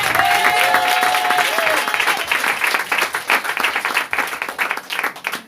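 A church congregation applauds and acclaims the Lord with loud sustained clapping and crowd voices, full and close, and a brief sung or held vocal tone near the start.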